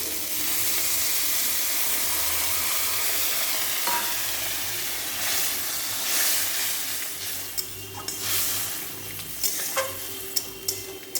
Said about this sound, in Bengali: তারপরে জলটা দিয়ে দিচ্ছি।